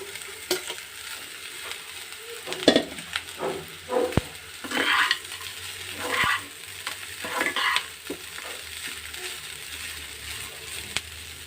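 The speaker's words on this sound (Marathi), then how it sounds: "कांदो बरो रोस्ट जालो म्हणटकीर तातूंत मिक्स केलेले फोव आनी पीनट्स घालून बरें मिक्स करून घेवपाक जाय." Kanda poha being stirred in a pan: onions, flattened rice and peanuts roasting over heat, with repeated scraping stirs and a soft sizzle, moderately close and without talk.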